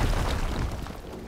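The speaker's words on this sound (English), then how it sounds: "Lots of fireworks." Fireworks going off in the video game Horizon Forbidden West, a loud continuous run of booms and crackling bursts rolling together for over a second with no pause.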